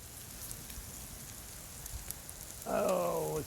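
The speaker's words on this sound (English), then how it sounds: "Oh, it's starting to rain a little more." Light rain patters softly and steadily on surfaces nearby at an outdoor campsite, a gentle continuous hiss; a brief voice-like tonal sound rises near the end.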